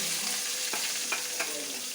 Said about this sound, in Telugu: ఉల్లిగడ్డ పచ్చిమిర్చి వేసుకోవాలి.